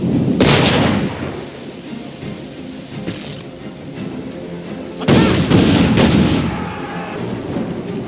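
Sniper gunfire in Assassin's Creed 3, a few heavy, booming distant shots spaced seconds apart, echoing over a constant rain-like rush of background noise.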